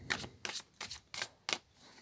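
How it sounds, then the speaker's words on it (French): Archangel tarot cards being shuffled and drawn, five short papery riffling bursts in an irregular rhythm, close and fairly quiet. "je vais tirer une dernière carte avec le tarot des archanges"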